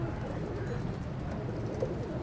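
Pigeons coo at a busy Sunday pigeon market in Lalukhet, a low, throaty murmur that carries on steadily beneath a dense crowd-like background hum.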